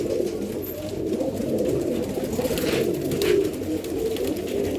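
Pigeons coo inside a cage, low throaty rolling calls from several birds overlapping close by with a soft rustle behind.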